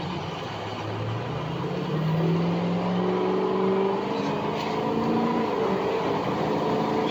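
A truck engine pulls through a test drive, a close, steady motor drone that rises in pitch as it accelerates through gears, with rolling road noise underneath and no talking.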